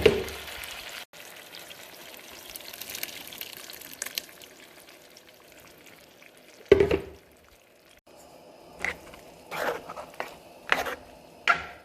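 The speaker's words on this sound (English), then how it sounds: "It's gonna start frying with the oil that is in there." Salsa sizzles in hot oil with pork for chile verde, a soft steady frying hiss that later gives way to sharper bursts of stirring and scraping.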